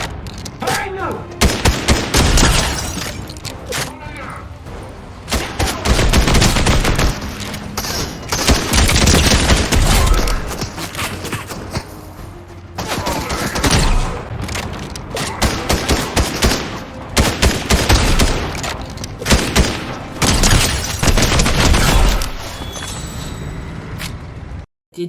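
Rapid bursts of automatic gunfire and shots in the Fortnite video game, loud and repeated in clusters with short pauses between volleys.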